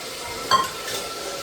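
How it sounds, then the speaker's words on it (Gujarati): A vegetable dish tempered in hot oil at home, a brief sizzling burst with a metallic clink, then a low continuing fry. "જો શીતલબેન કંઈક એવું શાક બનાવે છે અને વઘારે છે."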